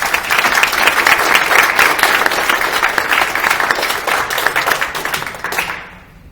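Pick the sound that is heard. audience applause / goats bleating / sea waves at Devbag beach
audience applause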